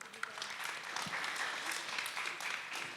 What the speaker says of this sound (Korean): 먼저 큰 박수 부탁드립니다